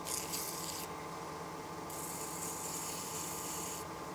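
Sandpaper rubs by hand along the channel of an aluminum pocket case in steady, faint rasping strokes, with brighter hissing passes that start and stop.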